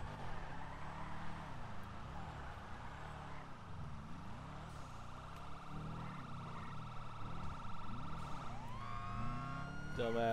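A video game ambulance siren in GTA 5 wails, cycling up and down repeatedly over rumbling engine noise, with brief voices and a sharp electronic chirp near the end.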